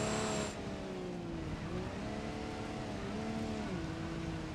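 Rally Dakar truck engine in BeamNG.Drive labouring uphill, a steady droning roar whose pitch dips and climbs in repeated gear-like waves, quiet and continuous with no talk.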